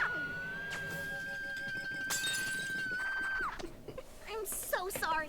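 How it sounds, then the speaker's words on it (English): Cartoon commemorative plates in My Little Pony: Friendship Is Magic shatter in sharp bursts of breaking china, mixed under animated voices and background music. "You might shatter my Princess Celestia commemorative plates!"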